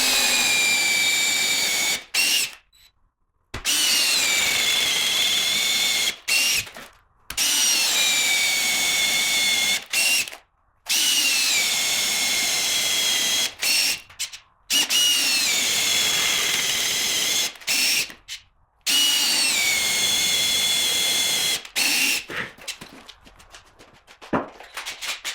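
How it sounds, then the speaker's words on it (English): Power drill boring holes into a log for a bench, whining loudly in repeated long bursts separated by brief pauses, the motor spinning up and bogging as the bit cuts through the wood. "Okay, holes are drilled."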